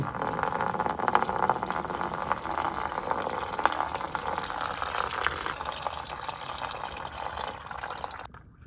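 Water pouring and trickling steadily out of a flooded, abandoned Toyota Supra engine being rebuilt, a continuous close splashing flow with dripping that runs alone throughout.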